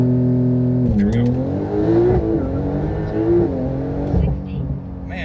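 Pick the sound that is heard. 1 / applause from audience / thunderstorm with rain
1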